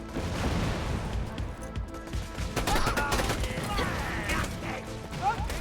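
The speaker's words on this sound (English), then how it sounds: "Just throw a grenade there." Grenade blast in Borderlands 2 gameplay, a loud burst of booming, crashing game audio with clanking mechanical effects and scattered gunfire around it, continuous and dense over several seconds.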